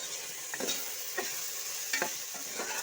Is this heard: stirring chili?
yes